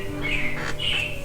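Robins chirp at the Carousel of Progress attraction in Disney's Magic Kingdom: two bright, clear chirps in quick succession over a steady low hum, with no talking.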